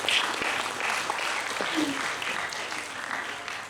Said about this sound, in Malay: Berikan tepukan paling gemuruh untuk anak-anak kita.